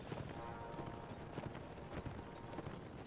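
Horse hooves clatter in a cavalry charge in the video game Mount and Blade Warband, a steady drumming of many galloping hooves heard at a moderate distance under low battle noise.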